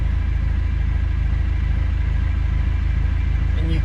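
Cummins diesel swapped into a 1984 Toyota Land Cruiser FJ60 idling after a cold start, a steady deep rumbling clatter heard close and constant throughout.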